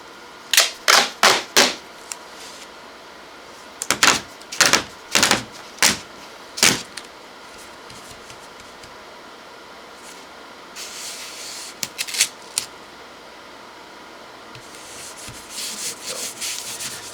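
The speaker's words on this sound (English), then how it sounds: "Pull the tape real tight." Tape pulled tight and pressed onto foam board while building a foam board flying wing: sharp bursts of tearing and rubbing in quick clusters, close and fairly loud, then softer scraping and handling noises with no talk.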